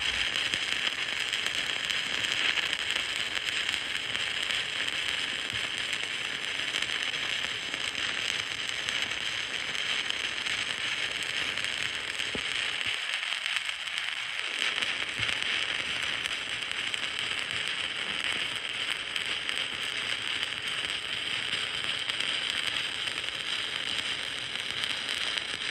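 Stick welding with a 7018 rod on a vertical tee joint: a steady, loud, dense arc crackle and hiss that holds unbroken, with one brief dip near the middle.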